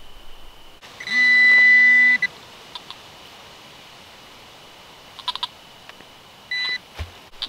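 A Fisher metal detector sounds a loud, steady electronic tone for about a second over buried metal in an old New Hampshire farm field, followed later by a few short chirps and a second brief beep, with no talking.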